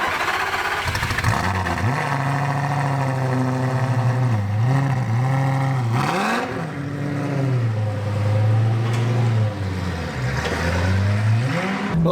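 A Lamborghini drives on snow with its engine loud and close, revving up and down in repeated surges and dips as it slides around.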